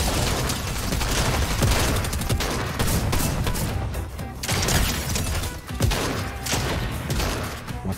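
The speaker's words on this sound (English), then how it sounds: "Okay, I'm being shot from all the way over there" Dense, loud gunfire in Fortnite, rapid overlapping shots and impacts filling the whole stretch with brief dips between volleys.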